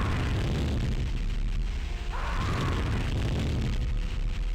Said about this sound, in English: using a flamethrower is a bit more ammo efficient